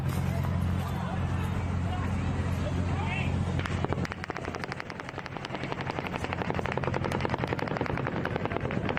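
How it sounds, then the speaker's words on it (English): Rapid bursts of automatic gunfire during the Las Vegas shooting rattle continuously from a distance over a steady rumbling background, dense and unbroken for several seconds. "the 4th volley of automatic gunfire begins"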